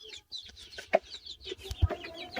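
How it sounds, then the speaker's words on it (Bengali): Farm chickens cluck in short, close bursts while pecking at fresh spinach leaves. The calls are mixed with scattered soft pecking and rustling, and no voices are heard. "আজ দেখাবো হচ্ছে মুরগিতে পালং শাক কিভাবে খায়"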